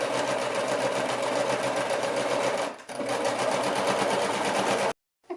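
Sewing machine running a double seam on a denim purse made from old jeans, a steady close whirring stitch that dips briefly, resumes, then stops abruptly near the end.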